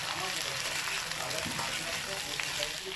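Sliced okra fries with shrimp in a pan, giving a steady, even sizzle with soft crackles throughout, close but fairly quiet.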